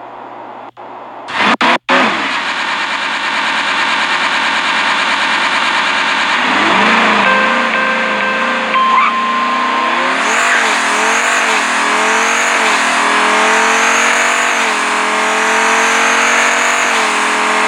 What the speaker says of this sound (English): I want you guys to hear the car when it just roars.